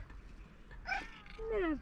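A tuxedo cat gives short, chirpy meows, a brief rising call and then a longer downward-sliding meow, close and clear over a quiet room.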